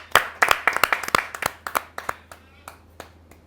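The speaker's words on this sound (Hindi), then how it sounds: "आपके जोरदार तालियां मिले उषा श्रीवास्तव जी" Applause from a poetry gathering audience greeting poet Usha Srivastava, heard as sparse, distinct hand claps that thin out and fade over a few seconds, fairly close and moderately loud.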